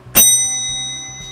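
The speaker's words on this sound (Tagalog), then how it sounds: "Tumutunog na bell." A decorative bell being sold is struck once, giving a bright, sharp ding that rings on with sustained tones and slowly fades, with a faint low hum beneath.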